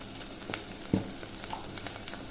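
A pan sizzles softly while food fries for biryani, a faint steady hiss broken by a few clinks and stirring knocks.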